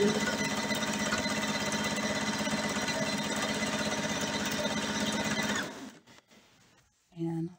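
A sewing machine chain piecing striped quilt fabric runs in a fast continuous whir for several seconds, then stops, followed by a brief short burst.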